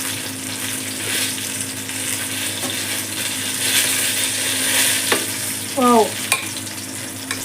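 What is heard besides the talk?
stuffed brinjal curry gravy boiling and bubbling in a pan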